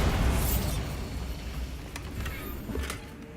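The Bombarda spell explodes in Hogwarts Legacy: a loud, booming blast at the start that fades into a low rumble, then smaller bursts follow.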